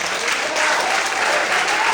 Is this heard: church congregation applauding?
yes